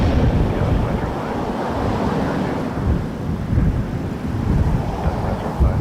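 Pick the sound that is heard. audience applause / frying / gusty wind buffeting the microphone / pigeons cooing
gusty wind buffeting the microphone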